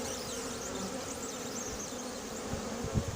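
A swarm of bees dropped into a cardboard box, a continuous dense buzzing hum with a few soft thumps near the end, no talking.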